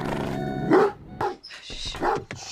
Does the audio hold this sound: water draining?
no